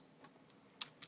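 Computer keyboard keys pressed during spreadsheet statistics work, a couple of quiet sharp clicks, the clearest pair near the end, in an otherwise quiet room.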